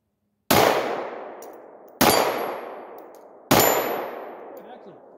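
A pistol fitted with a Holosun 509T sight fires three one-handed shots at red steel targets: loud evenly spaced reports about a second and a half apart, each ringing off with a long metallic decay.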